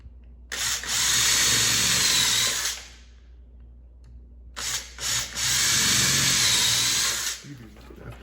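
A power drill counterbores screw holes in wood in two sustained whirring bursts of about two to three seconds each, separated by a short quiet pause, close and loud.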